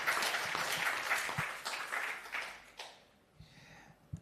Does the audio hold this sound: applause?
yes